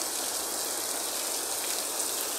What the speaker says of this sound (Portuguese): Chuva chegou com força